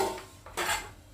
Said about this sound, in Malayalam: നമുക്കൊന്ന് മൂടി തുറന്ന് നോക്കാം.